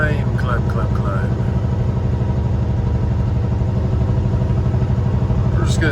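A semi truck pulling a trailer climbs a steep driveway in third gear at about 1,500 RPM, its diesel engine giving a steady, heavy, throbbing low rumble close by, with someone talking over it.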